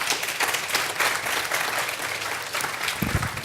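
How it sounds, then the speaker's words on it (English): An audience gives a steady round of applause for three panelists at a health and sustainable development armchair discussion, dense continuous clapping from many hands, fairly close and loud throughout. "Let's have a round of applause for these three gentlemen."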